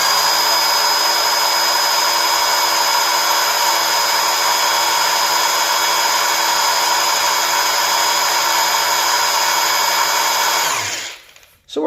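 A power drill whirs steadily at high speed for about eleven seconds, loud and close, then spins down and stops.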